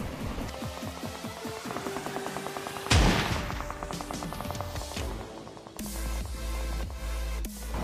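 Gunfire from the PUBG Mobile video game rings out as a sharp, loud burst of shots, with layered rattling game sounds and an impact thud partway through and a dense, boomy stretch near the end.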